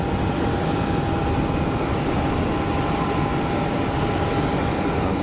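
Airbus A319 airliner at Geneva Airport, a steady distant jet engine roar holding at constant level throughout, broad and unbroken with a faint high whine.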